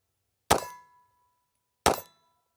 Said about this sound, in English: First shots of the brand new Glock 45 Gen 6.